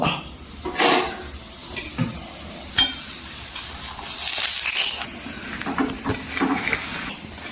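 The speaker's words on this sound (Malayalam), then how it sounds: "എണ്ണയിലേക്ക് നമ്മുടെ ഈ കായ ഇട്ടൊന്ന് മൂപ്പിച്ചെടുക്കുക" Asafoetida frying in hot oil for a coconut tomato rasam, a steady close sizzle and hiss with occasional spoon taps and clinks against the pan.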